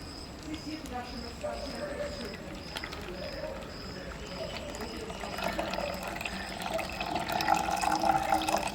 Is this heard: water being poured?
yes